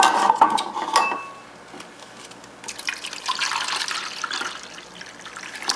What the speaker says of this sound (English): Let's pour 1 cup of this.